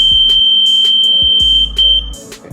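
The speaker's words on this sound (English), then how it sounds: "as soon as obstacle come in 50 centimeter, then buzzer will turn on." An Arduino smart blind stick's buzzer sounds a steady high-pitched electronic tone when an obstacle comes within range, with short clicks and handling knocks around it, ending after about two seconds.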